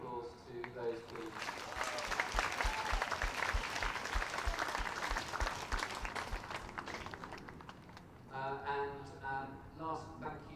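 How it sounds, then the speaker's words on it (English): Crowd applause at a school sports day held at an outdoor athletics stadium, sustained broad clapping filling most of the clip, then fading as voices and talk take over near the end. "So a big round of applause to those teams."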